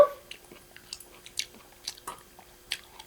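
Someone chews freshly caught raw fish sashimi at a beach campsite, a handful of soft wet bites and crunches at irregular intervals, close up and quiet, without talk.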